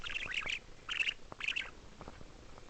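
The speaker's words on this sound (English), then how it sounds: "You, sir, are a very noisy bird." A pet budgie squawks in three sharp, shrill bursts close by, with softer chirps following in a quiet room.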